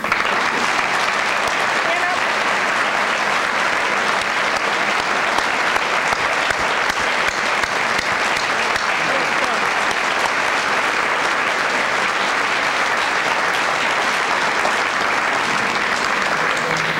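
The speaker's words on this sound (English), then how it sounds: "I think they deserve a big round of applause" Loud, continuous applause from an audience honoring committee members at a school's distinguished alum celebration, thick even clapping that fills the whole stretch without letup.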